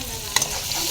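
Onions, nigella seeds and spices sizzle in a pan, a steady close frying hiss with a single quick scrape of a spatula near the middle.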